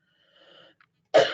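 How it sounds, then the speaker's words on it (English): One close, sharp cough bursts out near the end after a faint murmur and a moment of quiet, followed by a brief rough exhale. "Excuse me, I'm going to cough."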